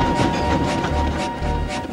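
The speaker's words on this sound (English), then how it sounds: "Then he heard an engine puffing into view." A steam tank engine rumbles steadily with rhythmic chugging and clattering, loud and close, with no voices.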